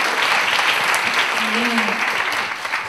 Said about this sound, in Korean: 우리 가운데 놀라운 은혜를 주신 하나님께 우리 한번 영광의 박수를 해드리겠습니다.